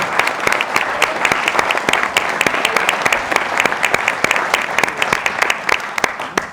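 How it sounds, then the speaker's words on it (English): Wedding guests at a Burford reception clap loudly for the bridesmaids, a close, dense and sustained round of applause with sharp individual claps standing out throughout. "Can we have a round of applause for the bridesmaids?"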